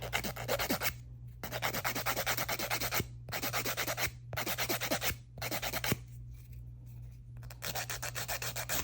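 Acrylic nail being filed with a nail file: close, faint rasping strokes in quick back-and-forth bursts, separated by short pauses, repeated through the whole stretch.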